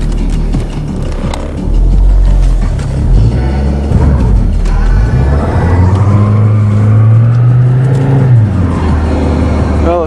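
A car being revved after a cold start with no brakes, its wheels spinning and smoking rubber, a loud engine roar rising and holding in a long rev, mixed with clunks and rattles up close.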